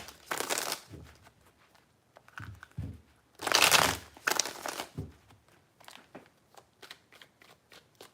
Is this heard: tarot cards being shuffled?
yes